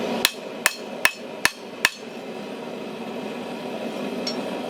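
Five sharp, evenly spaced hammer strikes chip slag off a fresh weld, each a bright metallic crack with a quick ring, close and loud, followed by a quiet background hum.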